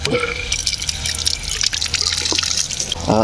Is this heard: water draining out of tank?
yes